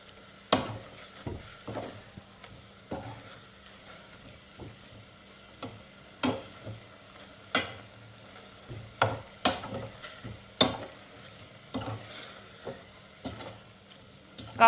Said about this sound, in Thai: ผัดนะคะให้เขาสุกนะคะ